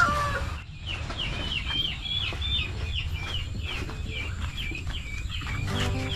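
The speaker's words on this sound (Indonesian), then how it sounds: "Ayam mutiara dengan ayam Belanda." Guinea fowl and turkeys cluck and call in a rural village yard, a steady stream of repeated close chattering calls over a low background rumble, with no talk.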